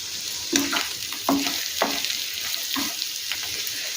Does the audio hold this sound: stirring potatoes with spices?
yes